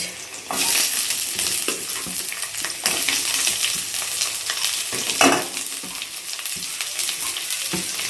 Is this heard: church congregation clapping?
no